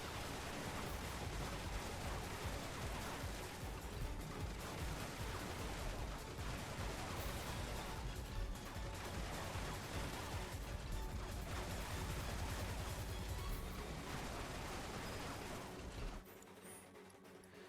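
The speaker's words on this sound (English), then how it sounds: "Avoid the gunfire and press on." Gunfire fills a battle in Final Fantasy VII Remake as a crumbling walkway gives way, a dense, continuous roar of shots and crashing debris that suddenly drops away near the end.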